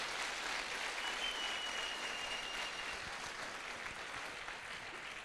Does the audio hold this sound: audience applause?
yes